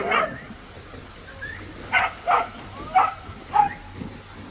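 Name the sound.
dogs playing in the water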